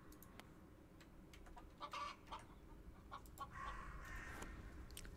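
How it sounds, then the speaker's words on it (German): A chicken clucking in the video game We Harvest Shadows, a few soft clucks and squawks over a low steady ambient hum, faint and without speech. "Jetzt habe ich ein Huhn."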